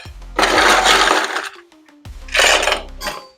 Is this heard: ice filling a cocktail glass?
yes